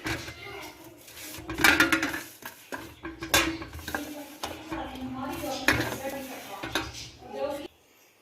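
Crushed dried mint, rubbed fine by hand, tipped into a jar in a home kitchen, giving light clinks, taps and rustles with a few sharper knocks, close up, while someone talks over it.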